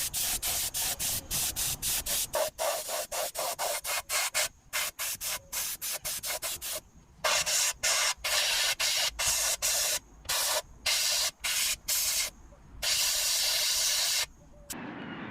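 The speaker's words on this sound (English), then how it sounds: "I'm going to put some 2-pack epoxy primer on there just to actually get into all the nooks and crannies" A spray gun hisses 2-pack epoxy primer onto the welded seams of a 70L fuel tank in a Corrado TDI. It fires in rapid, steady pulses separated by short gaps, close and fairly loud, with longer pauses toward the end.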